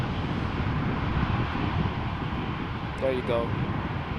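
An EasyJet airliner lands at Amsterdam Schiphol in gusty crosswind, a steady rumbling roar mixed with wind buffeting on the microphone, and someone speaks briefly near the end.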